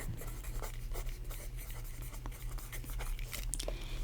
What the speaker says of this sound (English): So I'm gonna write that down.